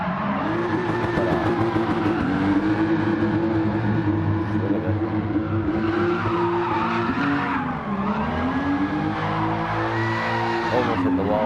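A Toyota Supra with a drift tune slides through a corner in Gran Turismo Sport, its engine held at a loud, steady high rev with long continuous tire squeal and a brief dip in revs midway before it picks up again.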